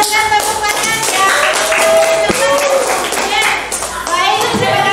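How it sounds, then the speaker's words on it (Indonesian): A classroom audience of children gives steady applause, dense clapping that runs without a break under their chatter and raised voices. "Kita berikan tepuk tangan ya."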